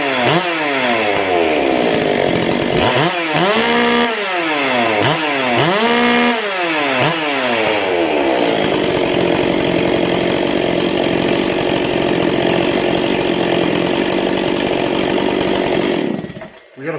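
Echo CS670 chainsaw with a modified muffler, revved hard in repeated rising and falling bursts in a shop, then held at a loud steady high-pitched scream before cutting off abruptly.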